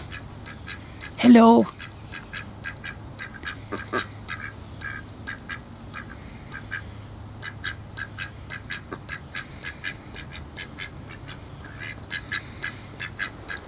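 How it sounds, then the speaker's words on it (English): Ducks quack intermittently in a shady spot on a hot day, with a short nearby burst standing out early and softer repeated calls running throughout, along with a brief spoken greeting. "The ducks are all keeping cool in the shade here on this hot day."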